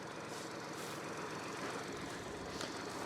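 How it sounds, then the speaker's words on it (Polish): A 2024 BMW 118i F40 engine idles with an even, continuous rumble and faint mechanical ticking, close by and uninterrupted. "Widzimy jak silnik pracuje, cisza, spokój."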